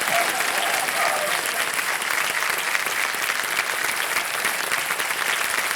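Sustained applause from a studio audience of women at a quiz show taping, steady dense clapping filling the room at an even level throughout.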